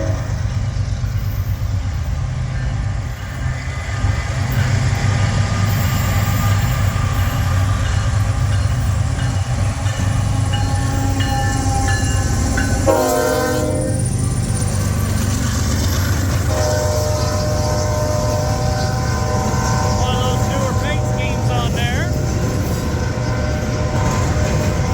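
Freight trains roll past on Canadian National-CSX lines, a loud continuous rumble and clatter of cars with a horn sounding midway, amid wind and rain.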